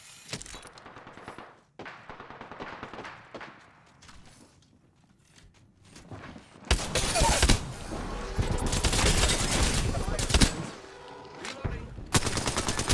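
Loud bursts of rapid video game gunfire from Apex Legends fill the second half, following quieter footsteps and mechanical game sounds, with heavy repeated shots and a brief pause before more firing.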